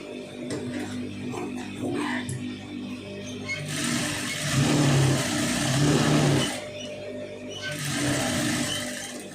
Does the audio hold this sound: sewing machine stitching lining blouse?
yes